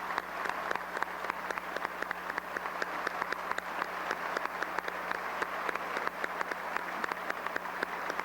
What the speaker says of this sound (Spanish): Un aplauso para Dominicana.